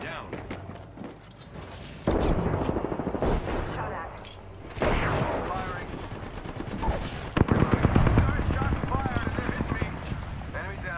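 Rapid automatic gunfire in the battle royale game Apex Legends, loud and close, coming in several sustained bursts with brief pauses between them, while a player talks over the shooting.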